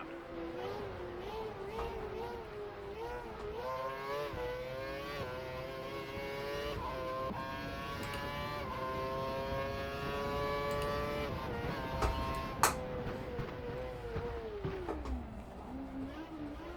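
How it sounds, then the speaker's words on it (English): An F1 racing car engine in the F1 2012 video game on the Chinese Grand Prix circuit, a high whining drone that climbs and shifts pitch through gears over steady road noise, with faint voices underneath. "We think the car behind is running on full revs."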